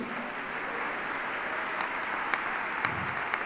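Congregation applause at a church gathering, a steady broad wash of many hands clapping at a moderate distance, sustained and even throughout, with a few sharper claps near the end.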